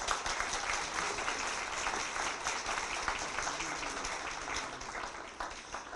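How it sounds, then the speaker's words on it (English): Guests at an employee recognition luncheon honoring women leaders give sustained, steady applause for the honorees, a dense wash of many hands clapping that fades slightly toward the end. "Let's give them all another round of applause."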